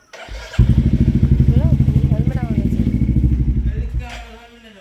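A motorcycle is wheeled out and started; after a thump its engine catches and idles in a fast, even, throbbing beat for several seconds before easing off, while people talk nearby.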